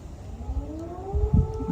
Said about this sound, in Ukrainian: Сирена у нас.